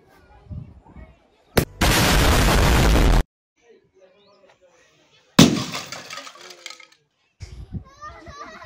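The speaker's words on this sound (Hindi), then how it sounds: "बहुत खतरनाक तरीके से धमाका हुआ है नीचे" A television thrown from about 100 feet crashes to the ground, a sudden loud smashing burst followed later by a second harsh crash that rattles and fades, with quiet stretches and faint voices between.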